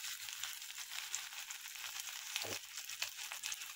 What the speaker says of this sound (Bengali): পেঁয়াজ কুচি দিয়ে চুনো মাছগুলো দিয়ে ছোটো ছোটো করে বড়া ভাজছি।